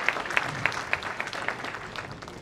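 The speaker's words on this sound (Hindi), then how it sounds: "जोरदार तालियों से हार्दिक अभिनंदन" Applause from the audience at a railway award ceremony, a burst of brisk clapping from a gathered crowd that gradually thins out over a couple of seconds.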